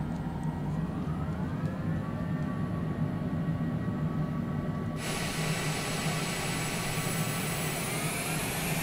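Twin airliner jet engines run at a steady drone during taxi in a flight simulator, with a sustained whine that brightens and loudens sharply partway through, no talk over it.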